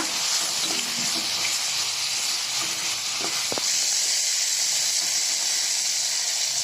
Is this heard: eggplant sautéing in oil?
yes